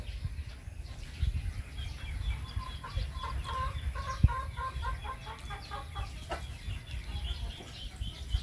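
Several chickens keep up a busy run of clucks and short calls at close range, over a low steady background hum.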